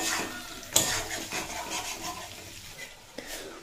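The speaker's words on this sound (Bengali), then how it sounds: "ফুলকপি আর শিম দিয়ে অল্প নাড়াচাড়া করে নেব।" Cauliflower and flat beans are stirred in a pan, giving soft scraping and rubbing strokes with a couple of sharper knocks of the spoon against the pan, close and fairly quiet.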